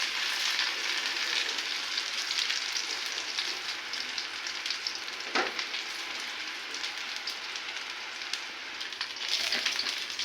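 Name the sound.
onions frying in oil with bay leaf and spices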